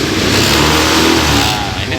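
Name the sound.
Honda Vario carburetor scooter engine revving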